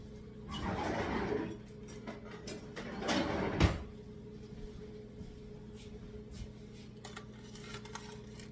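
Microwave dishes handled in a home kitchen while cooking garlic cauliflower steaks: two bursts of clattering, with a sharp clink near the end of the second, then quiet with a few faint taps.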